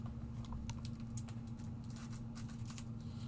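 Gold glitter card stock is cut for handmade cards, giving a series of quick, light snips and crisp ticks over a steady low electrical hum, with no talking.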